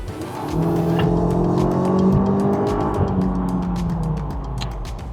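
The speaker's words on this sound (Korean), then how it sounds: "스포츠 모드로 바꿔서 한번 밟아볼까요?" A Hyundai Palisade accelerating hard in sport mode, heard from inside: a loud, steady engine drone climbs in pitch over road and tire noise for several seconds.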